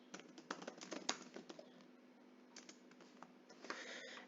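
Quiet, close clicking of fingers typing on a computer keyboard, in uneven bursts with short pauses, over a faint steady hum.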